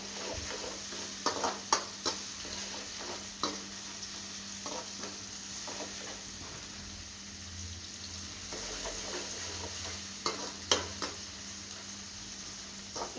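Tomatoes sizzle steadily in a hot pan and are stirred now and then with soft scrapes and occasional louder knocks, a continuous close frying hiss throughout with no talking.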